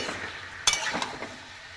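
Lemon chicken with chopped ginger being stirred in a frying pan: a steady soft sizzle with one sharp utensil clink and a few lighter scrapes partway through.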